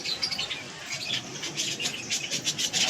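Domestic pigeons burst from a flock of ten to twelve birds, their wings flapping in a rapid, fluttering patter of close, crisp beats that continues steadily throughout.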